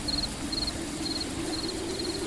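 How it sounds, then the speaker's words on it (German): A cricket chirps at night, with short regular bursts repeating about every half second, steady and fairly close, set against a low background hum and no talk. "Ich höre hier eine Grille."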